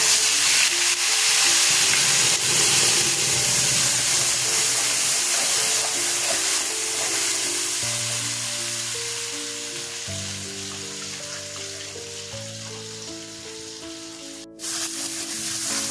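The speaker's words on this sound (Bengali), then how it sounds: "জিরে ভাজা হয়ে গেছে পেঁয়াজ লঙ্কা আদা পেস্ট ছেড়ে দিচ্ছি" Onion, chili and ginger paste hits hot oil with fried cumin seeds and dried chili, raising a loud, continuous sizzle. The hiss holds strong throughout, dips slightly toward the end, and a soft tonal hum sits beneath it.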